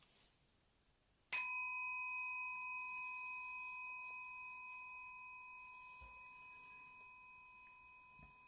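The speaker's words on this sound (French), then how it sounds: "Petit gong tout petit gong aussi à la fin" A small meditation gong is struck once after a quiet start, ringing out with bright, clear overtones that sustain and slowly fade over several seconds, alone with no voices.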